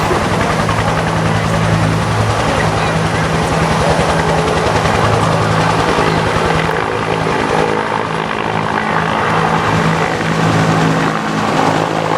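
A military helicopter at a Vietnam reenactment display at Fort Jennings Fort Fest, its rotor and engine roaring loud and close in a continuous steady drone.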